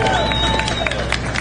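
Audience at an alien festival costume contest in Spruce Pine clapping and cheering, a dense continuous wash of applause with whistles and shouts, loud and steady throughout.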